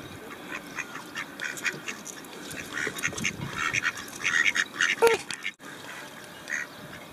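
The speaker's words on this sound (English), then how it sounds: "Look at the duckies. Ducklings." Ducks and ducklings quack repeatedly at close to middle range, with several scattered calls clustering toward the middle. Soft background chatter runs beneath them.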